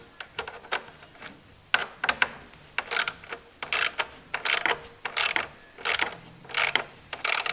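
Spring mounts on a RZR XP1000 light bucket are snugged down with a ratchet, giving close, sharp metallic clicks in uneven bursts with short pauses between.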